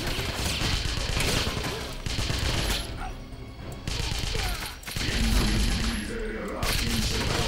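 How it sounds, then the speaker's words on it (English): Enemy gunfire in the video game Wolfenstein (2009) rattles in dense, continuous bursts, with loud overlapping shots and crashes filling the whole stretch at close range. "Oh, fucking stop shooting me."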